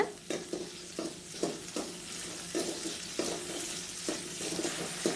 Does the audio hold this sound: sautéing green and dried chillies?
yes